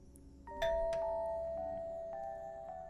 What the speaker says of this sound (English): The doorbell chimed, echoing inside the house